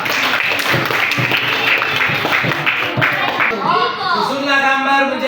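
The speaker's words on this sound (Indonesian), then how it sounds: "sekali lagi tepuk tangan untuk kita semua" Class of students clapping hands together in a classroom, mixed with children's chatter and voices, followed by a voice or tone rising over the noise near the end.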